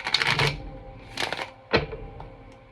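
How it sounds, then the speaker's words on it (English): Tarot cards riffle and shuffle in a few quick papery bursts, close and fairly crisp, with short pauses between them. "I keep having to shuffle these cards twice."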